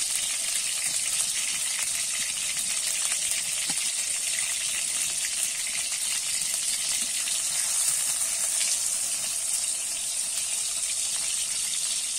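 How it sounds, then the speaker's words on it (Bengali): Chopped tomato sizzles and hisses steadily in hot oil with spices while being stirred for a spinach chicken curry, a constant close frying sound with no voices. "এবার কেটে রাখা টমেটোটা দিয়ে দেবো, দিয়ে আমি একটু নেড়ে চেড়ে নেবো।"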